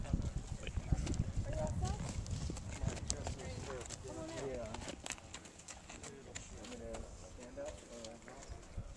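Horse hooves clip-clop on a cattle drive, an uneven run of close, hard knocks with people talking over them.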